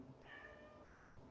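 A pet cat lets out a single faint, drawn-out meow in the background of a quiet indoor room, distant and brief.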